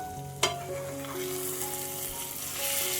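Dried bombil fish masala with raw green mango pieces in sizzling oil, a steady close hiss of frying with a sharp stirring clink near the start and faint scraping after.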